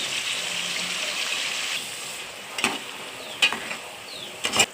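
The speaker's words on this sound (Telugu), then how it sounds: "పచ్చిమిర్చిను ఇవన్నీ కలిపి వేగాలండి" Green chillies and paste sizzling and frying in a pan for prawn curry, a steady hiss that eases off, followed by a few sharp clinks of stirring near the end.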